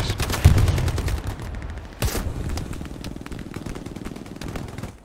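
Rapid gunfire from the online war game Hell Let Loose, a loud burst of shots up front followed by a sharp report and continuing crackling automatic fire at a distance.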